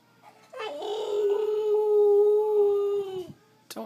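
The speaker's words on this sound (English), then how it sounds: "Don't howl." A dog lets out a single sustained howl lasting a few seconds, loud and close, wavering slightly before breaking off, with no speech over it.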